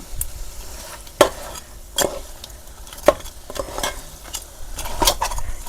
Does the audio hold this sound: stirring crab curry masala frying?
yes